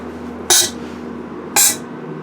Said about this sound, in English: What you just heard was the air blaster down there going off.